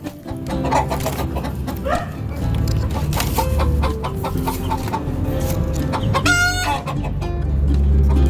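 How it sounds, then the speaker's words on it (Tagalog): Hens cluck steadily where they lay their eggs, close and overlapping, and a rooster crows partway through. "Hindi lang isang manok ang nanghihilog dito."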